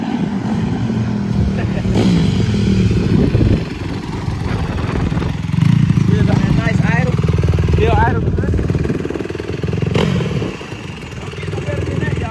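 A 2016 Honda CRF150R dirt bike engine running loud and close, holding a rough steady idle with occasional revs, while people talk over it.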